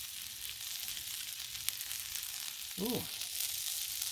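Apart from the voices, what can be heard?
garlic parmesan butter sizzling on a Blackstone griddle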